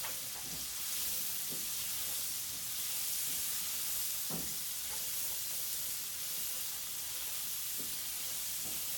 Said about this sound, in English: We're going to throw the shallots and the green onions in there. Start cooking that down.